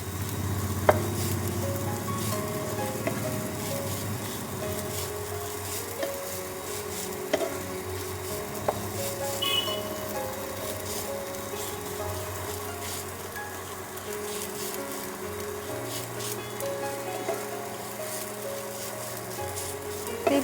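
Semolina frying over a low flame in a pan, stirred steadily to make a caramel sweet, giving a continuous soft sizzle with scraping stir strokes throughout, with no talking.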